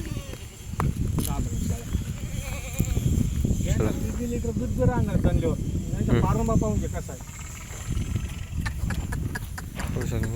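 Kathiawadi goats bleat repeatedly nearby amid a noisy farmyard, with someone talking over the animals.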